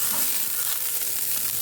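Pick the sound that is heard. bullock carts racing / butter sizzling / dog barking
butter sizzling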